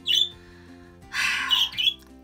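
A pet bird squawks indoors in a house, two loud, harsh calls close by, the second longer and rising, with no talk over them.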